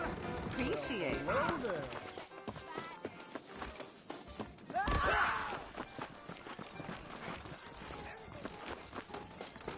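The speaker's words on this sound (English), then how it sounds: "I got the horses saddled up and ready out front." Saddled horses in the Red Dead Redemption video game, their hooves clip-clopping near and at a walk beneath intermittent character dialogue, with a brief whinny-like swell partway through.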